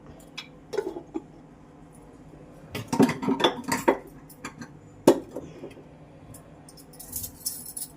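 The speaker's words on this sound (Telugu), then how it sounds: "బాగా కలుపుకోవాలి మసాలా పట్టినట్టు బాగా కలిపేయాలి" Masala spices being stirred in a cooking pan for Nellore-style fish curry, with a utensil scraping and clinking against the metal in irregular bursts, loudest in the middle, close by and without talk.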